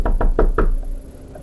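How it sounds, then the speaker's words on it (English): Four firm, evenly spaced knocks rap on a bedroom window, loud and close, then a faint fifth tap trails off into a quiet room. "the knock at the bedroom window."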